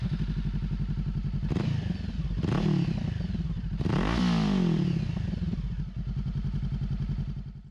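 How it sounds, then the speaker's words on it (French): A Honda CB500F motorcycle with an Exil X55 aftermarket exhaust idles steadily with a loud, throaty note, then revs up twice with rising roars before dropping back to a rumbling idle. "j'ai opté pour un échappement Exil X55 sur ma moto afin de lui apporter une sonorité un petit peu"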